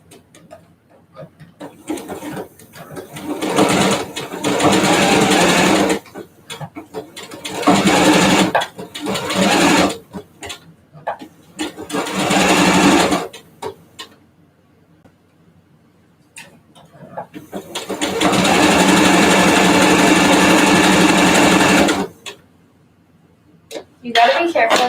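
A sewing machine stitches along the edge of an old T-shirt, running in several loud, close bursts of fast ticking that end as the fabric bunches, with pauses between runs and a voice talking at times.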